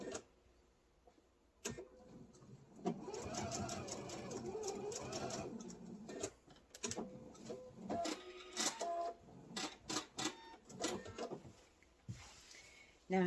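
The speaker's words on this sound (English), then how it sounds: "I'm just going to bring it over to my machine and do that quick basting stitch" A home sewing machine runs a basting stitch along an apron strap, a close mechanical whirring in short bursts and pauses, with clicks of fabric handling and a voice speaking intermittently.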